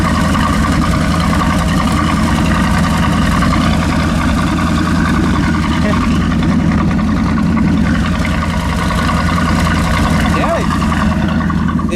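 A Ford truck fitted with a new tail pipe exhaust idles with a steady, low, burbly rumble, loud and unbroken throughout, while someone talks now and then over it.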